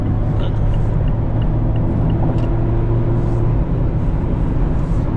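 A 2024 Mazda MX-5 RF cruising on the highway, with a steady, loud low road rumble and wind roar running unbroken throughout.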